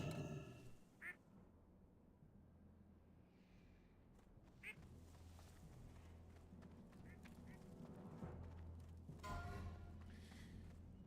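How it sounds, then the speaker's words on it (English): A duck quacks in the online game Turtle WoW: three or so short, quiet quacks spaced several seconds apart over soft, low game ambience. "That's why I have this duck"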